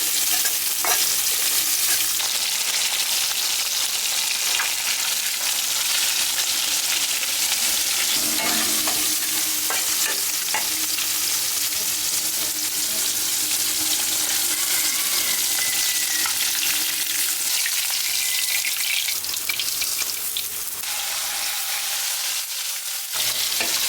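Onion, garlic and green chili frying in a pan give a loud, continuous close sizzle with stirring scrapes throughout, fading slightly toward the end.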